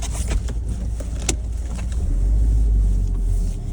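Car driving with a German shepherd dog riding inside, a steady low engine and road rumble throughout that swells slightly louder in the second half, with a brief click near the middle.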